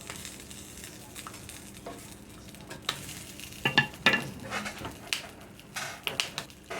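Peppers fry and scorch in a skillet with a steady sizzle, broken by scraping and clattering as they are rolled over, the knocks growing louder and more frequent partway through.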